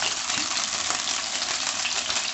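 Olive oil sizzles steadily in a hot pan during a shrimp stir-fry with onions and ginger, a dense, even crackle held close and loud with no talking.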